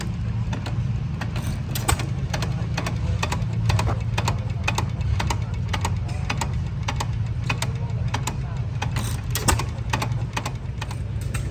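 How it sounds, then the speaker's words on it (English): An antique stationary engine running at an outdoor engine show in Pennsylvania, ticking out a steady, fast stream of sharp clicks over a low hum, close by and continuous. "we got another one of these engines right here"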